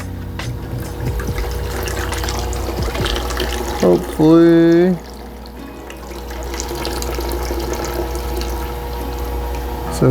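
Water pours into a shrimp aquarium tank as a steady rushing fill, with a brief gurgling burst partway through and a voice speaking briefly.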